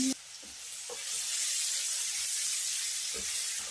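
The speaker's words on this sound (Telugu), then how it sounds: "ఇవి బాగా వేగిపోయాక ఒక ఉల్లిపాయ చిన్న ముక్కలుగా కట్ చేసుకుని వేసుకోవాలి" Chopped onion added to hot oil with garlic and chillies: a few soft clunks, then a broad steady hiss of frying swells and holds, close and alone.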